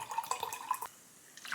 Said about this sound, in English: Then I take my coconut milk, coconut water, and I add that in here too.